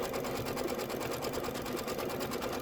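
An embroidery machine runs a tack-down and quilting stitch, a steady rapid mechanical chatter of needle strokes at moderate volume throughout, with no voices.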